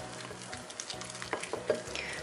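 Soft, wet stirring and squelching of a thick, hot, microwaved pork-skin collagen paste in a bowl, quiet and close, with small irregular clicks and scrapes.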